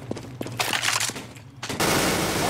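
Gunfire from a shotgun in the CS:GO video game, a busy burst of several rapid, loud blasts that ends in a dense, sustained roar of shots.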